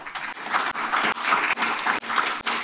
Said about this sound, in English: So let's just give them a round of applause.